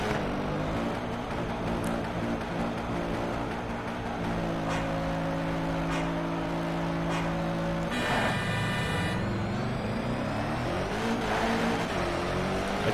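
Bugatti Veyron drag car in the racing game Shift 2 Unleashed at full throttle, a loud continuous engine roar that climbs in pitch, drops sharply at a gear change, then climbs again.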